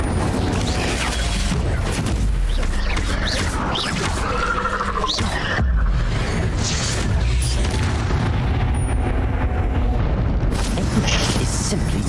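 Fiery spell blasts and booming impacts from a Hogwarts Legacy wizard duel, loud and dense, repeating over a continuous roar of combat effects with shouted voices mixed in.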